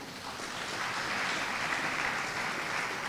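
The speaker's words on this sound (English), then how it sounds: "join me in giving them a round of applause" Soft, steady applause from an audience at a university oath-swearing and awards ceremony, heard from a distance as a continuous wash of clapping.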